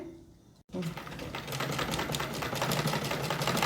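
A sewing machine stitches a seam on palazzo pants, starting after a brief quiet moment and running in a fast, steady mechanical rattle close by.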